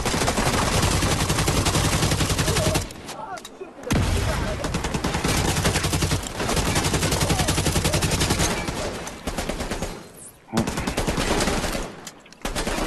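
Shotgun fire in The Division 2 comes as dense, loud, rapid blasts with little pause, broken by a few brief lulls, with other gunfire mixed in across the fight.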